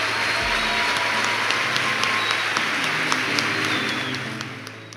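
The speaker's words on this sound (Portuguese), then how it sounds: "Eu gostaria que a plateia em forma de agradecimento, aplaudisse esses professores" Audience at a law event applauds teachers: dense, sustained clapping from a large crowd, steady and loud before tapering off toward the end.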